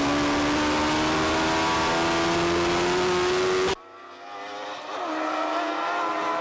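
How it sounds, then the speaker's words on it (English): Race cars at the Kirkistown circuit roar loudly past while accelerating. The rising engine note cuts off abruptly, then a fainter, more distant engine climbs in pitch and builds again. "that Radical appears to have caught up with the battle for third place, which Colin Reid appears to be getting the"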